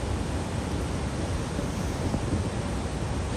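Horseshoe Falls at Niagara pours with a continuous, dense broadband roar, steady and loud with no breaks and no voices.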